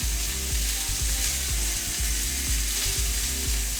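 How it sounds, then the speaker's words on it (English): Tri-tip steak sears in a hot pan with a steady, loud sizzle and crackle that runs throughout, joined by a few soft clicks and knocks. "It's a nice looking sear."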